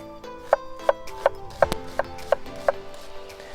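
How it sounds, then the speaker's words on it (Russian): A knife cuts an onion into half rings on a board, giving sharp, evenly spaced chops at about three per second, with a louder thud partway through. The chopping is close and clear, with no talking. "Мы будем нарезать лук."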